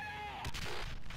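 A single burst of artillery fire in World at War, a short heavy blast that booms and rumbles away within about a second.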